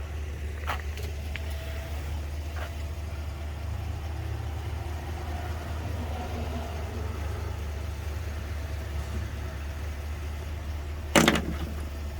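A GMC AT4 pickup truck engine idles with a steady low rumble, continuous and even from near by, broken by a few faint clicks and one brief sharp knock near the end.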